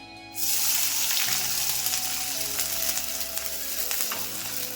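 Sliced onion tossed into hot oil in an iron wok for restaurant-style noodles, bursting into a loud, close sizzle that continues steadily with faint stirring.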